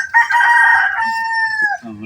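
A rooster crows once, close and loud, a drawn-out cock-a-doodle-doo that tails off, followed by a short low cluck.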